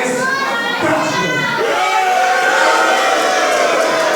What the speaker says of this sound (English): this crowd absolutely letting Basham know what they think of him